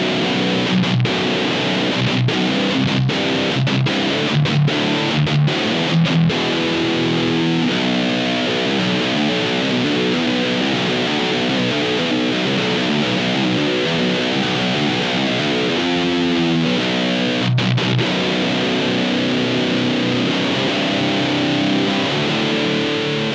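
Distorted electric guitar chugs and rings out through an ENGL Fireball IR pedal's distortion channel, thick and loud, with a steady driving riff running throughout.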